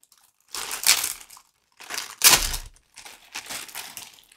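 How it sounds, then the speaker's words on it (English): Mail packaging crinkles up close in three separate bursts of crackling, each lasting about a second, with short silent gaps between them and no voices. "Sorry for the crinkling."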